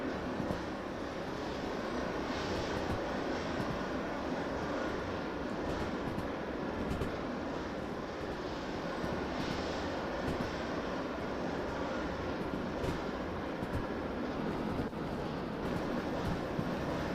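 Locomotive running at speed in the Derail Valley train game, a steady loud rumble with rushing wind noise that holds unbroken throughout, no voices.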